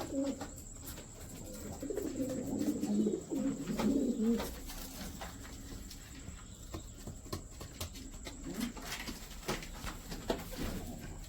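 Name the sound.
young pigeons cooing in a pigeon coop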